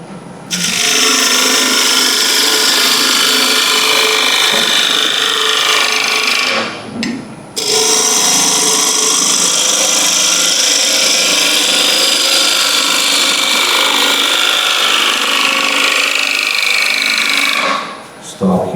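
A small ball gouge with a fingernail profile and very small bevel cuts timber on a wood lathe, giving a steady, loud scraping hiss that runs almost continuously with two brief pauses.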